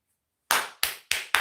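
Four sharp hand claps, evenly spaced about a third of a second apart, close and crisp after a brief silence.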